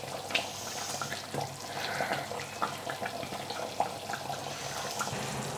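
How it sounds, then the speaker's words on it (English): Beef pepper curry simmers in a pot, a soft continuous bubbling and gurgling with small pops, fairly quiet and close. "Bubbling away quite nicely."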